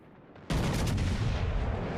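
A sudden heavy blast of naval gunfire from battleship guns in World of Warships, booming loud after a quiet start and rumbling on to the end.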